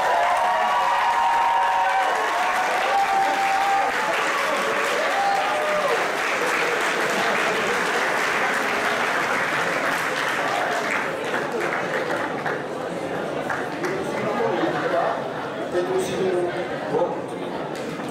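An audience in a school hall claps loudly and continuously after a Christmas performance, a dense steady wash of applause that fades slightly toward the end.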